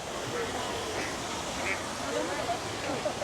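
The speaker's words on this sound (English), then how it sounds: "Ducks are quacking." Ducks at Disneyland quack in short, scattered calls at moderate distance on a snowy morning, mixed with light background chatter and a person speaking nearby.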